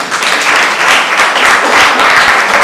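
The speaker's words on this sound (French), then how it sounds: "Applaudissez Madame Gandaro." An audience applauds Madame Gandaro at an awards ceremony, loud, dense clapping from many hands sustained throughout.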